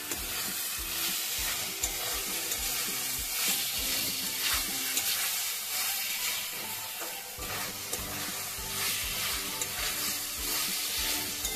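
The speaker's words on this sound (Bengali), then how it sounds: "এবারে কড়াইয়ের মধ্যে কড়াইশুঁটি আর টমেটোটা দিয়ে দিলাম, দিয়ে একটু নাড়াচাড়া করে কষিয়ে নিই ভালো করে।" Peas and tomato being stir-fried with spices in a wok, continuous close sizzling hiss with intermittent scraping and clinking of a spatula stirring against the metal.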